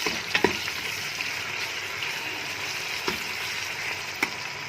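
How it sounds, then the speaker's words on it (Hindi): Chopped tomatoes and green chillies fry in masala for dal, giving a continuous moderate sizzle with a few sharp stirring clicks from a spoon, and no one speaks. "अब हम इसमें डालते हैं टमाटर और सब्ज़ मिर्चें"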